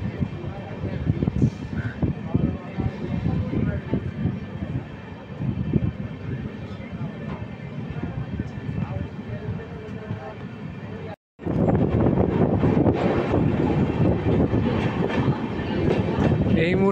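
Kanchanjunga Express, running with new LHB coaches, rolls through Dum Dum Junction with a steady rumble and rhythmic clatter of wheels, heavy wind buffeting, and a brief dropout before the noise resumes louder.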